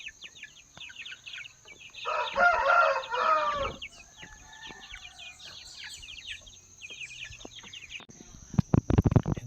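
A Shamo Aseel rooster crows loudly once near the start among other chickens clucking and chirping, with scattered bird calls, brief thumping noises near the end.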